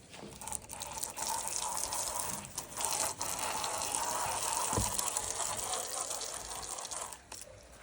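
Water gushes and splashes steadily across old concrete, a broad continuous wash running close by, briefly interrupted near the end.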